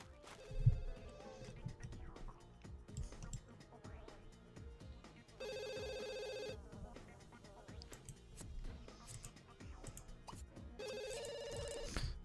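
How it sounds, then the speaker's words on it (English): A telephone rings in The Sims 2 in three separate bursts of trilling electronic rings. Game music and sound effects play underneath, and the ringing stands out clearly. "Go answer the phone."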